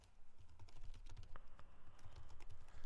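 Rapid typing of JavaScript code on a computer keyboard, a close, steady patter of key clicks running continuously with no voices.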